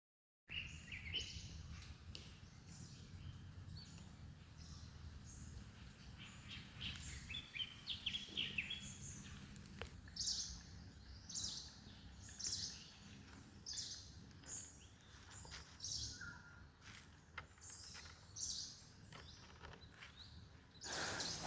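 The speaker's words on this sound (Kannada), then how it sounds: "ಪಕ್ಷಿಗಳ ಚಿಲಿಪಿಲಿ ಕೇಳಲಿಕ್ಕೆ ಖುಷಿ ಆಗ್ತದೆ" Birds chirp and call repeatedly near a ruined old Shiva temple, bright calls scattered across the whole stretch over a soft outdoor hum, with no talking.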